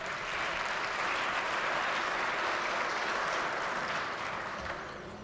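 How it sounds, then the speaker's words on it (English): Steady applause fills a chamber of the West Virginia Legislature, a broad, even wash of clapping from many hands that holds for several seconds before tapering slightly at the end. "Please give him a round of applause."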